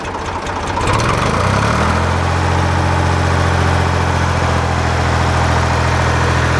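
A Ford 335 industrial diesel engine, just fitted with a fuel injection pump, climbs from a lower speed up to full RPM within the first second or so, then holds a loud, steady, close-up drone with no talking.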